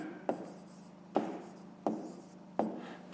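Handwriting during a fifth-grade maths lesson, four distinct pen strokes landing at even intervals over a faint steady hum, with no voice.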